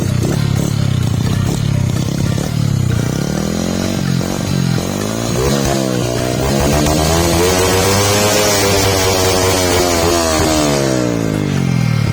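Worn small motorcycle engine with a loose part, revving repeatedly up and down close by, loud and continuous with rattling clatter and no talk.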